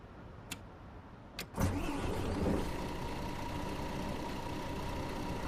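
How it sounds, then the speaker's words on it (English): A few clicks, then a bus engine in Tourist Bus Simulator on PS5 cranks and catches, settling into a steady low idle hum that continues to the end. "All right, so let's start the bus up, shall we?"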